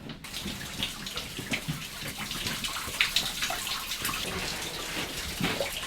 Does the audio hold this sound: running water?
yes